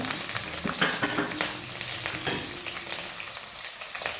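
Crushed ginger, garlic, curry leaves and chili hit hot oil with a close, crackling sizzle. Bursts of spatter and stirring clicks run through the short stretch without any talk.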